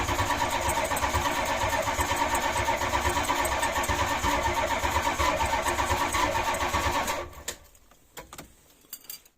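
A cold van engine with a freshly overhauled Holley carburetor and no choke cranks with a loud rapid chugging rhythm, as if trying to catch, for several seconds before cutting off into faint clicks and knocks.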